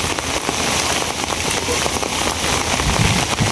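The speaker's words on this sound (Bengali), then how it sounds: "প্রচুর বৃষ্টি শুরু হয়েছে" Heavy rain pouring onto surfaces outdoors during a windy storm, a dense, loud, continuous hiss with constant patter and no pause.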